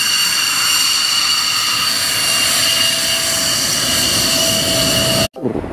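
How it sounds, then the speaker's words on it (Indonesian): A fighter jet in a vehicle video game gives a loud, steady roaring whine that holds without a break, then cuts off abruptly near the end. "Di sini ada pesawat jet tempur."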